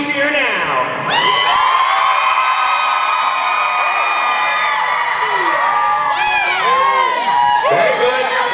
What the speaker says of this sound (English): I want to hear you cheer now.